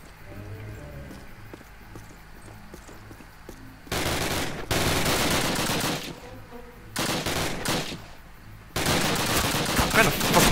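Bursts of rapid automatic gunfire from a machine gun in a Call of Duty game come in loud, dense stretches separated by quieter gaps filled with faint game sounds, and the final burst runs to the end.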